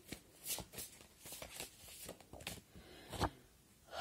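Tarot cards shuffled by hand in a quiet room, a run of soft, papery riffles and flutters repeating in quick bursts over several seconds, close and fairly faint, with no talk.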